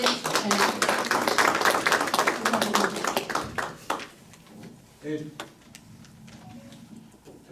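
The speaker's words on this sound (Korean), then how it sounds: "박수로 한 번 더 환영해" An audience claps in welcome at a Northeast Asia peace conference, dense applause for about four seconds, then it fades, leaving scattered taps and quiet murmuring voices.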